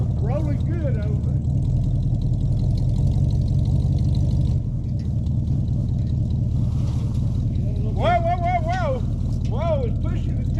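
A 1979 Chevrolet C10 truck engine running on its first start after rescue, a loud low rumble idling steadily throughout, with people talking over it.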